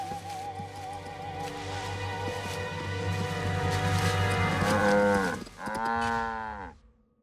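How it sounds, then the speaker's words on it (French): Cartoon cows mooing loudly in long, drawn-out lowing calls that overlap and build, with a final pair of moos near the end before fading out; no speech. "on a retrouvé ses vaches"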